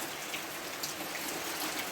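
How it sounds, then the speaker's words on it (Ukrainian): Steady rain falls outside a village house, a dense, even hiss of drops with no gaps and no one speaking. "Гарний дощ йде."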